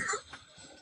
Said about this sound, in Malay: Oh, batuk.